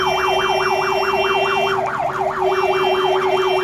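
Wailing ambulance siren on a vehicle caught in a heavy-rain traffic jam in Karur, rising and falling in a steady, fast cycle, loud and close, with a continuous tone and traffic rumble beneath and no talking.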